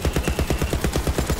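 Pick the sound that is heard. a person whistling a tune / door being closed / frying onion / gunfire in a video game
gunfire in a video game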